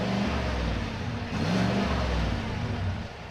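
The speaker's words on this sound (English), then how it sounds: "But we should also take a listen to the outside." Heard from outside, a 2021 Chevy Silverado 1500 RST with a V8 and stock exhaust runs nearby with a low, steady rumble, revving up and then settling back down, with no one talking.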